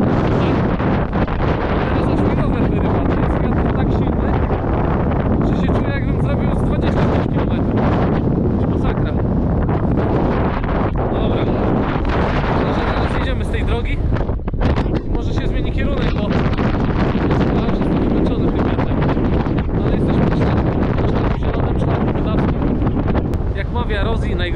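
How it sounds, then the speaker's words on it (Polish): Strong, gusty wind buffets the microphone in a loud, continuous roar while cycling on a rural road through the Żuławy lowlands in spring, with bursts of rumbling distortion throughout. "To jest wiatr tak silny"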